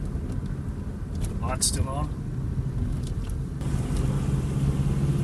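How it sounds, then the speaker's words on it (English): A Subaru EA82 turbo car slowing toward an intersection heard from inside: a steady low engine and road rumble that eases off, with someone speaking briefly over it. "Now we're slowing down to an intersection."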